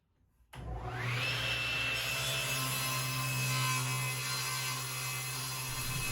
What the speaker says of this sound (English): it's back to the table saw to clean up the opposite edge.